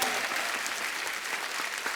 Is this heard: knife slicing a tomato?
no